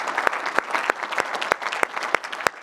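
Audience at a conference closing session claps warmly, a dense sustained round of applause with sharp individual claps standing out throughout.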